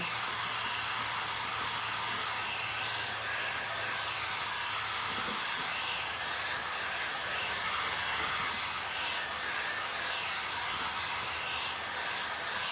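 A hair dryer drying a glossy decoupage glaze coat on a tissue box blows a steady, close whooshing hiss throughout, with a low hum fading out partway.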